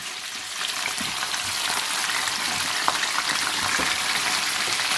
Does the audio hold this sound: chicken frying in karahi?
yes